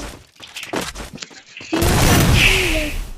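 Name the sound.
gunfire in the video game Free Fire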